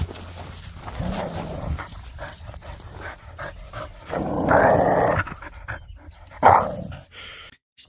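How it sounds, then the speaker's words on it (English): A dog growls while gripping a stick in its mouth, a low rumbling growl with panting breaths, rising into two louder bursts midway and near the end, close to the listener. "She got a good growl on her."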